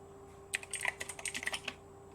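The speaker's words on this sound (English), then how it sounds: "Typing, watching" Quick burst of typing on a computer keyboard during a day-trading session, about a second of rapid, light key clicks close by in a quiet room, with no talk.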